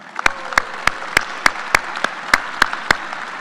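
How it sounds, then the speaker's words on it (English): A few widely spaced, sharp claps ring out at a military change of command ceremony, roughly one every third of a second, crisp and isolated against a quiet room rather than a full crowd. "Please join me in a round of applause for the Lawrence family."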